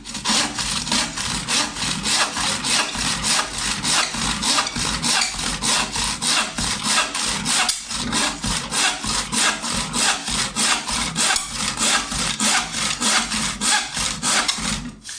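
A hand saw rasps steadily through wood in even back-and-forth strokes, loud and close, with a brief pause midway.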